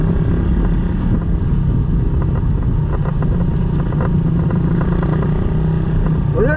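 Suzuki Raider 150 motorcycle, nicknamed Red, running on a newly fitted carburetor, its engine droning steadily and loudly for the whole stretch with rising and falling revs, close to the rider and with no voices over it.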